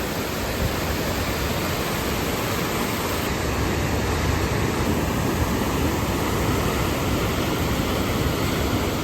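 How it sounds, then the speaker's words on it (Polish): A loud, steady roar of rushing water at the Song Hamid waterfall on Don Det, Laos, close and constant with no pauses or voices. "Bardzo fajny wodospad, podoba mi się."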